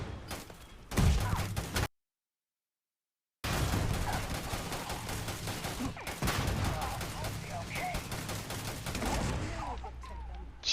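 Dense bursts of rifle and machine-gun fire crackle in the Foxhole war game, loud and sustained, with voices calling out underneath and a brief silent dropout early on.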